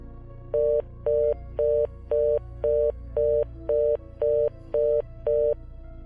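A telephone receiver left off the hook in a military barracks corridor emits a repeated tone, ten evenly spaced short beeps against a low hum, clear and steady.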